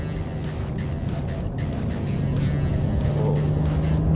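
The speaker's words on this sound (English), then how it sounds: "It's a mad E46 coming in here." A BMW E46 drives past on the Nurburgring, its engine a steady loud drone that swells as the car nears, with no talk over it.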